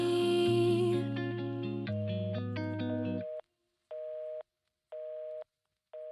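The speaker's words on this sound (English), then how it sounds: "it ends with the disconnected phone line sound" A K-pop track ends abruptly, then a disconnected-line telephone tone follows: three identical beeps separated by short silences.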